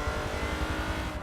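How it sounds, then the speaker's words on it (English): A car in the Forza 7 racing game with a swapped-in V8 engine, droning loud and steady at high revs with a rough, throbbing pulse and no talking. "judging by the sound of the car, he has swapped the engine for a V8"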